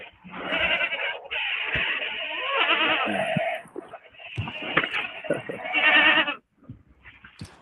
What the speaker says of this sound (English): I love the sound of your farm with them goats going.